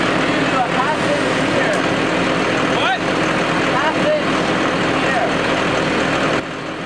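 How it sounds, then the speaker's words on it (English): Tractor engine running loudly at a ranch cattle handling setup, a steady low drone throughout with people talking over it. "the loudness of the tractor means that we have to kind of scream at each other"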